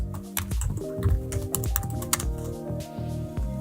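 Typing on a computer keyboard while entering code, a quick irregular run of close, crisp key clicks with small pauses between bursts.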